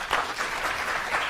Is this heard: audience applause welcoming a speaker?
yes